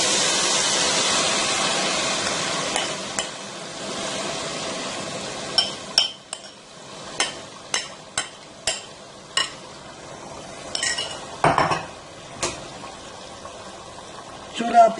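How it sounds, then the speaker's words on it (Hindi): A spoon clinks and scrapes against a pot while semolina soaked in milk is stirred into sugar for suji halwa. A soft sizzle fades out, then sharp metallic taps and scrapes follow at a quick, uneven rhythm, close up. "अब आपने इसमें मुसलसल चम्मच चलाना है।"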